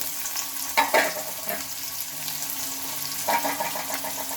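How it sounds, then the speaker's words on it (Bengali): Chopped onion frying in oil with whole cumin seeds, a steady close sizzle broken by brief scraping stirs near the start and again later, with no voices. "পেঁয়াজটাকে একটু ভেজে নেব"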